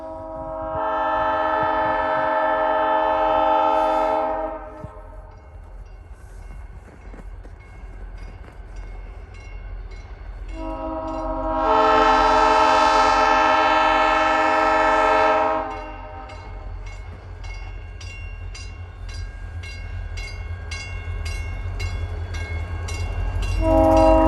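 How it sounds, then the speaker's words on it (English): A train with new locomotives rumbles steadily past while its horn sounds two long, loud blasts, with rhythmic clacking of wheels over the rails underneath. "Oh, that train's almost here"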